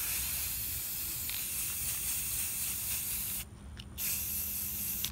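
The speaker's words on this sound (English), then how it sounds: "So I'm going to start spraying again." Spray paint hisses in a steady, continuous stream onto a tumbler, close and loud, with one brief pause before the spraying resumes.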